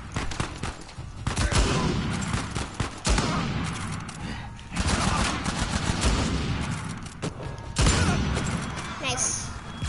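Bursts of rapid MP rifle fire in Uncharted 4, loud and sustained in several volleys with short pauses between them, mixed with other in-game effects.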